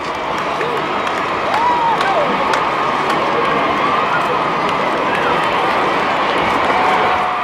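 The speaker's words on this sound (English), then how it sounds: "the crowd was almost hysterical." A large, excited crowd greets Diana and Charles on their first public outing together, a loud, dense roar of massed voices with shrill individual shouts and cheers rising above it.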